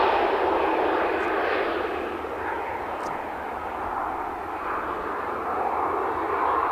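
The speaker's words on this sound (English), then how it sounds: "Sun Express and Ryanair making their way down to the end of the runway." Sun Express and Ryanair airliners taxiing toward the runway end at Manchester Airport, a steady broad engine roar heard from a distance, unbroken and fairly loud throughout, with no voices.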